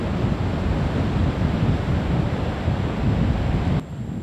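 Rough sea waves pound the support base of the old Chania–Kissamos national road at an eroding bend near Stalos, Crete, as a continuous loud roar of surf with wind buffeting the microphone, easing slightly just before the end.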